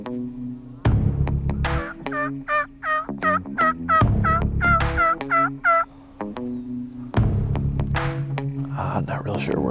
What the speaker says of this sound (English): we can hear some gobbles